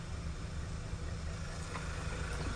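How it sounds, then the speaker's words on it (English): Car engine idling after an aftermarket PCV valve install, a low steady rumble with a slightly uneven pulse, heard close and continuous with no talk. "And it's idling out, and it should be working fine."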